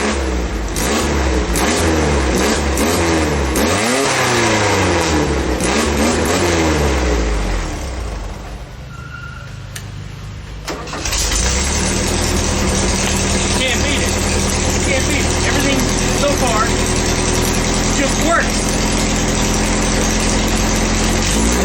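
A VW-engined motorcycle built from junkyard parts, its engine starting and revving loudly and close with a fluctuating pitch, dipping briefly, then settling into a steady running idle.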